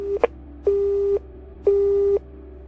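A phone line disconnect tone: two short beeps, then two longer evenly spaced beeps, clear and close against a faint hum.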